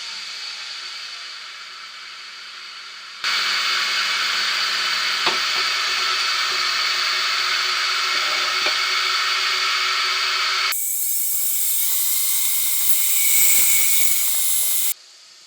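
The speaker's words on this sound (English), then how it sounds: "now I can take the tailstock away so I can part off the lid of the box" Wood lathe running while the lid of a wooden ring box is parted off, a loud continuous whirring hiss that shifts abruptly in tone twice as the cut goes on, with no voices.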